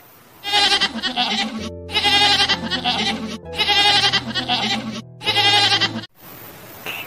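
A goat bleats loudly and repeatedly, four long wavering cries in a row, close by, with brief gaps between each call.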